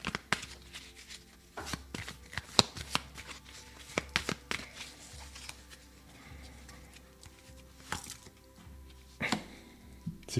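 Tarot cards being shuffled and drawn at a table, with quick papery riffles, soft slaps and taps in an irregular rhythm, close and fairly quiet, with no voices.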